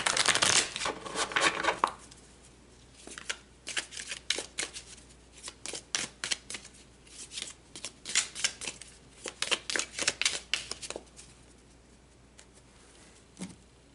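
Tarot cards are shuffled by hand close up, in repeated quick riffling bursts with short pauses between them.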